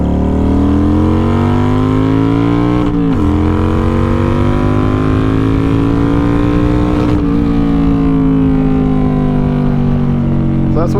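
A 2009 Kawasaki Vulcan 900 motorcycle rides at night, its engine droning loud and steady with wind noise, dipping briefly at two gear changes.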